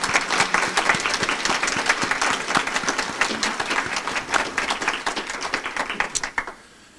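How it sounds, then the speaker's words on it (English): At a hospice Tree of Remembrance ceremony, a room of people gives a warm round of applause, loud and crisp with individual claps audible, tapering off and fading out in the final second. "Please join me in a sincere round of applause for all of them and all that they do and have done."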